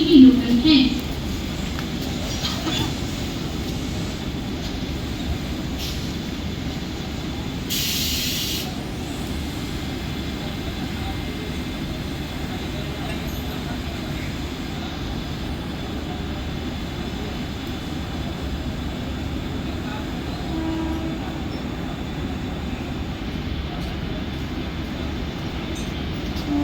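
A Mumbai slow local train pulling into Vikhroli station platform, a steady rumbling roar of carriages throughout, with a station announcement voice talking over it and a brief sharp hiss partway through.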